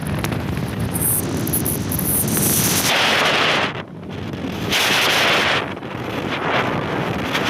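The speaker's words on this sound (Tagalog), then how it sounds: "medyo malakas ang hangin" Strong wind roars and buffets the microphone in loud gusts, with a brief lull midway before it surges again.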